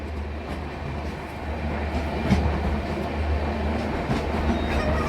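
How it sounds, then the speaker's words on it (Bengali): The Tebhaga Express, running with new LHB coaches, enters Gangarampur railway station in a steady, close rumble with a low drone and faint rhythmic wheel clatter, with no talking. "নতুন এলএইচবি কোচ নিয়ে ছুটে চলেছে তেভাগা এক্সপ্রেস।"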